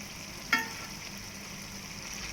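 Chapati frying in oil on a pan, a soft even sizzle with a single sharp tap near the start.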